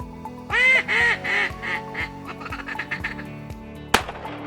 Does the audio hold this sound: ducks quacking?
yes